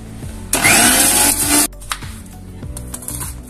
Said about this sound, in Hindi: सबसे पहले लहसुन को हम पीस लेते हैं।